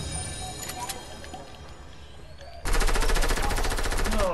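Desert Eagle pistol fire in a first-person shooter: sparse sharp gunshots early on, then a loud, dense burst of rapid gunfire that continues to the end, with game noise and a voice mixed in.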